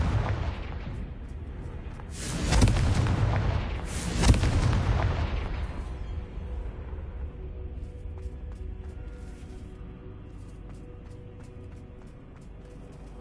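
The Confringo explosion spell in the video game Hogwarts Legacy, two heavy booming blasts a couple of seconds apart, each with a rumbling tail that decays into low ambient noise.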